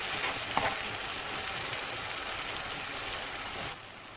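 Spices being stirred in a hot pan for shakshuka, a continuous close sizzle and frying hiss with a faint scrape of the spoon, dropping away near the end.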